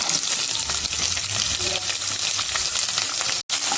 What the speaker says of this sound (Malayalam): ലൈറ്റ് ബ്രൗൺ ആവണ വരെ നമുക്ക് നല്ലപോലെ ഇളക്കി കൊടുത്തോണ്ടിരിക്കാം